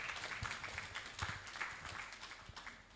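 An audience at an energy sustainability conference applauds panelists and speakers with dense, continuous clapping that stays fairly faint and evenly spread throughout.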